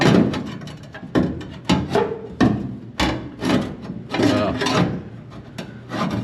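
Metal trimming work on a Pontiac GTO floor pan, with repeated rough rasping and cutting strokes in an irregular rhythm, close and fairly loud with no talking.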